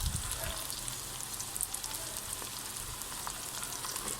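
Garlic and green chillies fry in hot oil in a pan, giving a steady, close hiss and crackle with a few louder pops.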